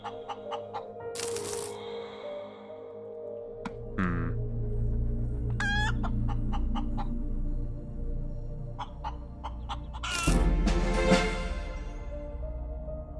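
Chicken clucking inside a space-survival crafting game resembling Subnautica, several short clucks and squawks scattered over a busy, steady game soundtrack and effects.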